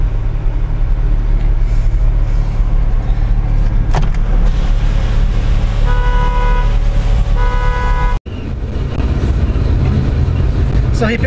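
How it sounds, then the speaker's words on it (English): Black 2008 BMW 335i with sport package driving, heard from inside the cabin: a steady road and engine rumble, with a brief tonal horn-like beep pattern midway and people talking over it. "here we are in this Beamer."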